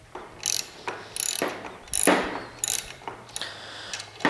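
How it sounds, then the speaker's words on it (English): A socket ratchet turns a 13 mm bolt on a Ryobi 10-inch table saw's folding stand, giving repeated short clicking bursts in a steady back-and-forth rhythm, close and fairly quiet. "We've got our socket here ready to go. Let's get it going the right direction."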